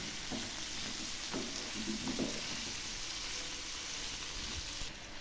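Broccoli and potatoes fry in a pan with salt and turmeric, giving a steady, fairly faint sizzle with a few soft stirring knocks and scrapes; no one talks.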